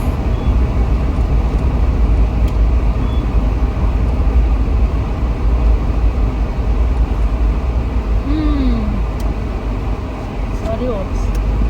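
Steady road and engine drone from inside a car driving along a road in Antigua, with constant low rumble throughout and a few faint chirps and squeaks near the end.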